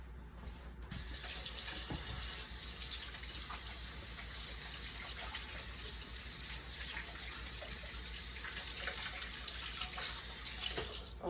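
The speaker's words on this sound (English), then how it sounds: "the next thing that I'm going to do is wash my hands again" Tap water runs steadily into a kitchen sink as hands are washed beneath it, a continuous close gushing hiss that holds from start to finish with no talking.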